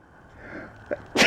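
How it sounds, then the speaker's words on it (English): A single adult man's sneeze inside a 2016 Jayco Jay Feather 7 17XFD travel trailer, a soft wheezy inhale building up before one sharp, loud, close burst at the end. "I'm going to sneeze in a second here"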